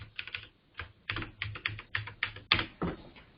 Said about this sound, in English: he's typing the password